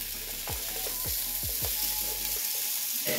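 Onions and garlic frying in melted butter in a pan, giving a continuous close sizzle with several soft knocks from a utensil and a quieter stretch near the end.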